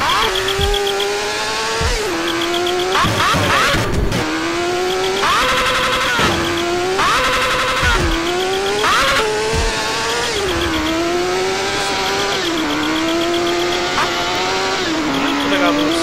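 A motorcycle in GTA San Andreas revs repeatedly, its engine whining up and dropping back in several rising and falling sweeps, loud and close, with sharp throttle blips between longer climbs.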